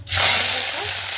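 Ingredients hitting hot oil in a wok, a sharp sizzle that bursts in loudly and holds steady, close and alone for about a second.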